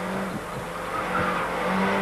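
Small turbocharged 1,397 cc, 115 horsepower Renault 5 Elf Turbo race car engine wound up hard during a 1989 UK Cup race, a steady strained drone with faint tire noise, held at fairly constant loudness with no talk.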